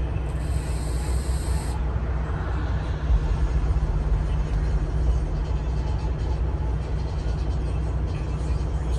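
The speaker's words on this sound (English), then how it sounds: "It's a garbage truck." A garbage truck drives by with a loud, steady rumble under a broad hiss. A sharp high-pitched hiss at the start stops after about two seconds.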